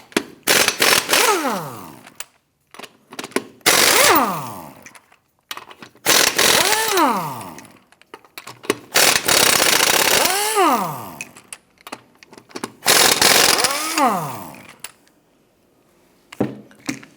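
Lug nuts come off a 2008-2013 Nissan Rogue front wheel in five or six loud power-tool bursts, each a whining motor sweeping up and down in pitch, separated by short pauses.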